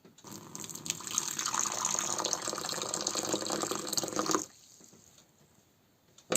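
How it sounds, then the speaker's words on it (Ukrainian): Boiling water pours steadily into a sturdy bowl for a water bath to melt chocolate glaze, a loud close gushing stream that runs for about four seconds, then stops to faint room sound. "Тепер в таку грубеньку, хорошу миску вливаємо кип'яток."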